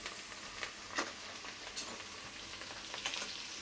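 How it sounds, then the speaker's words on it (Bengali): Green chillies frying in hot oil for a mixed-vegetable curry, a constant close hiss of sizzling with small crackles and a few louder pops, no voices. "তো আমার তেলটা যে গরম হয়ে গেছে, এর মধ্যে কাঁচা লঙ্কা আছে, আমি কাঁচা লঙ্কাটা আগে দিয়ে দেবো।"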